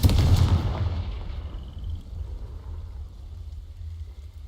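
A Confringo spell blast from a Hogwarts video game erupts as a loud, booming burst at the start and then trails off into a crackling, hissing fade.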